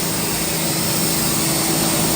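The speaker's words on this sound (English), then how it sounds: "we are getting serious with the power washer." A power washer runs steadily while cleaning a backyard chicken coop, a loud, continuous broadband motor-and-spray roar with no pauses or voices.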